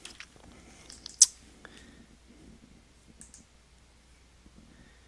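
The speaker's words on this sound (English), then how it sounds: "I'm going to click Save and Display here." A computer mouse gives a single sharp click on a quiet desk, close and brief, with faint small clicks and handling noise around it.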